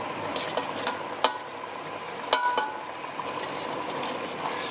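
Ground spices are being stirred into a pot of deigi-style beef korma, a steady scraping stir with soft sizzling underneath and a couple of sharper clinks of the spoon against the pot.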